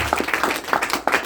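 A church congregation claps in rhythm during a French-language service, a run of even, fairly close hand claps blending into applause with a faint voice underneath.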